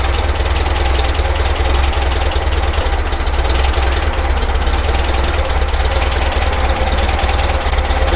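The engine of a VW Baja Bug runs at a very low idle during carburetor tuning, with a steady, loud, lumpy chug and faint knocking throughout. No one speaks.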